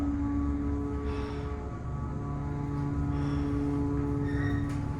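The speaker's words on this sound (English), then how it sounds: "Wow, listen to the motor." A Montgomery elevator motor in a mall, a steady, loud mechanical hum with a strong low drone and tonal whine that runs without a break, as if the listener is standing close to the car.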